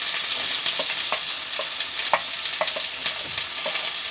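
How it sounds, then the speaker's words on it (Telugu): Thinly sliced onions and green chillies frying in oil until golden, a dense steady sizzle punctuated by regular spoon-against-pan stirring knocks at close range. "వీటిని ఇప్పుడు గోల్డెన్ బ్రౌన్ కలర్ వచ్చే వరకు బాగా ఫ్రై చేసుకోవాలి"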